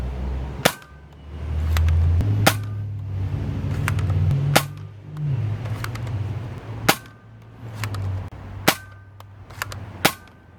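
A K26 Hot Shock toy dart blaster fires in a series of sharp, loud cracks, about eight shots spaced irregularly over several seconds, with a low mechanical hum between them.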